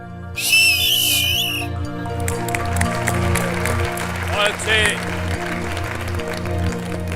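An audience on a celebrity cooking-competition show whistles loudly in celebration, with a sharp shrill burst near the start over a steady, thumping music beat and scattered cheering.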